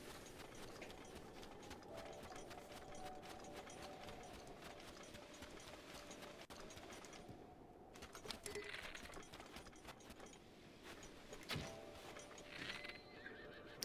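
A horse in Zelda Breath of the Wild whinnies over steady clip-clop of hooves and busy game ambience, with a couple of louder bursts in the second half.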